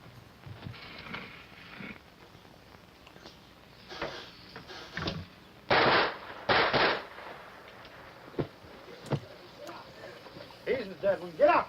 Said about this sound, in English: He's got to be able to hear the gunshots